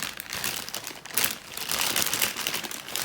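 Crinkly rustling of materials at a table during cross-stitching, a continuous papery crumple rising and falling in close-up.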